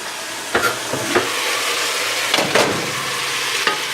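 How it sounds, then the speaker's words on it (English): Onions caramelizing in a pan give a steady sizzle, broken by a few scraping stirs that come in short bursts, close by and with no voices. "Caramelizing the onions."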